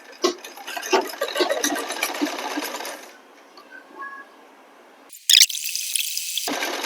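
A sewing machine stitches a pleated belt for a blouse in short runs. A steady close whirring runs for a few seconds, stops, then starts again after a brief clack, with no talking.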